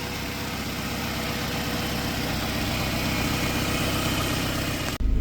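A Honda VTEC Mini car engine idles steadily up close, a continuous even rumble with a fine mechanical buzz that holds constant before cutting off abruptly near the end.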